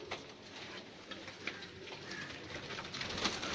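Fancy photogenic pigeons of a prized breed coo faintly around their loft, low murmuring calls scattered over a hiss of background noise with light pattering.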